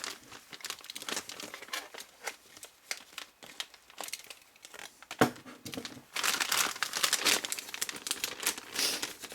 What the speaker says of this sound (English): It's again wrapped in foil.